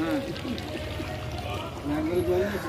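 Water is poured out for washing something, a short splashing trickle that runs under a voice speaking Bengali.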